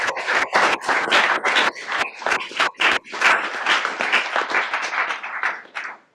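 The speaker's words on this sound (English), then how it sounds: "So everyone give a round of applause for BJ" A university lecture audience at Duke claps for about six seconds, dense applause that rises and pulses before quickly tapering off at the end, with no talking over it.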